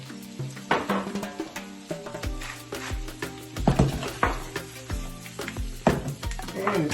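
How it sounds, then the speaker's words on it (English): Spinach sizzles and wilts in a hot frying pan while an omelette is prepared, a steady crackling fry under a persistent background musical track, with occasional stirring clatter. "A cup of spinach, we get it in there. And it's all going to be wilted ever so nicely."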